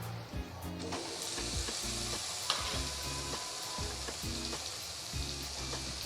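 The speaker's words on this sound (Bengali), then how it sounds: "রসুনটা ভালো করে ভাজা হয়ে গেছে। এবার আমি টমেটো কুচি দেবো।" Chopped tomatoes fry in a pan after the garlic, giving a continuous quiet sizzle under a regular rhythm of stirring and scraping strokes.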